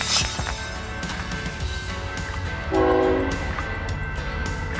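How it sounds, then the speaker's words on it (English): A freight train's horn blows loud and close over the steady rumble of rolling cars, a sustained chord rising mid-clip. "Freight train."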